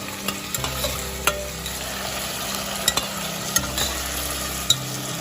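Onions with a pinch of salt fry in a pan, giving a steady sizzle broken by sharp scrapes and clinks of a spoon stirring against the metal, close and clear with no voices.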